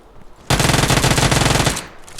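A loud, rapid automatic burst from a gun in the mobile battle royale game PUBG Mobile, firing in an even rhythm for just over a second before cutting off.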